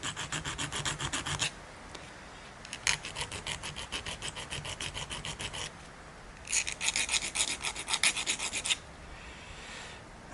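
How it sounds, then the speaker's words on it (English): Hand file rasping across the cut end of M3 threaded rod to flatten it, in three bursts of rapid back-and-forth strokes with short pauses between, close and clear with no talking. "just give it a file so that it's nice and flat"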